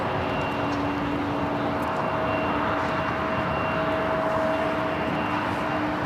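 Alaska Airlines 737 MAX 9 bound for Puerto Vallarta at LAX, a steady broad jet engine roar with a faint high whine, constant and moderately distant.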